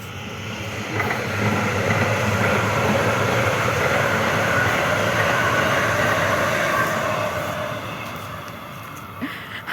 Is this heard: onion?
no